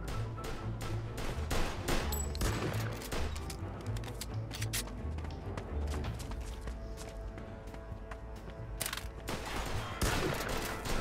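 Gunfire in Mafia 2 on Xbox Series X, a sustained close exchange of sharp shots in clusters and bursts, with crashes mixed in over about eleven seconds.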